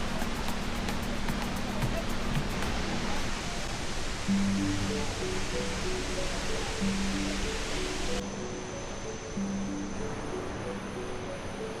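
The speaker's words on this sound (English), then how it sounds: "the sounds of the waterfall crashing below" Waterfall at Thompson's Falls in Nyahururu, Kenya, roaring as a steady, full wash of noise for the whole stretch, with soft tonal music playing over it.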